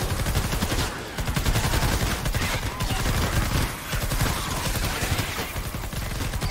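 Rapid gunfire from a weapon in Fortnite Save the World, with shots cracking in fast, steady bursts and near-continuous repetition at close range for several seconds, with only brief pauses between volleys.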